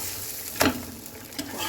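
Aloo chorchori, a Bengali potato curry, sizzles in a pan over a steady low hiss, with a sharp scrape of stirring at about the midpoint and a softer one near the end.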